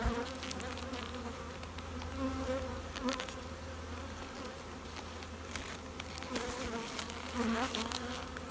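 Honey bees buzz steadily and close around a queen cage with a candy end while a hive is split, a continuous dense hum with no talking.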